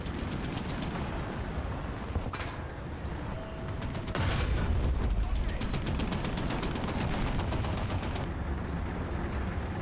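Automatic gunfire from a teammate in the War Thunder tank game with an M4A1 Sherman, loud rapid bursts of shots repeating in quick rhythm, growing heavier midway and continuing to the end.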